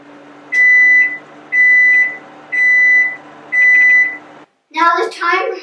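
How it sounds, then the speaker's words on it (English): A microwave oven timer goes off after heating a brownie mix, giving four evenly spaced, loud electronic beeps over a low hum before a voice starts talking. "Now the timer has gone off."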